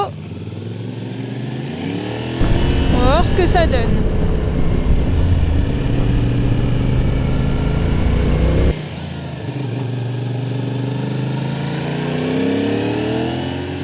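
A CFMOTO 450SR motorcycle engine revs up loudly and steadily while riding, sustained for several seconds before dropping back to a lower running drone, with someone speaking briefly before it.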